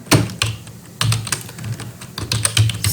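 Quick computer keyboard typing of CSS code, close and fairly loud, with irregular bursts of key clicks and brief pauses between runs, no voice.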